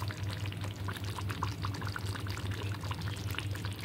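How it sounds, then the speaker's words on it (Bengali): Kewra water poured into a simmering katla fish rezala, a faint continuous trickle and bubbling over a low steady hum, close by and without speech. "দিয়ে দেবো গরম মশলার গুঁড়ো আর 2 চামচ মতন কেওড়া জল"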